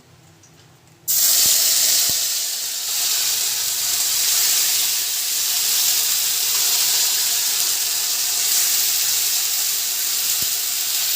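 Bay leaf and onion paste fry in hot oil for a jackfruit kofta curry, a loud steady sizzling hiss that bursts in suddenly and holds evenly throughout, with a few faint clicks.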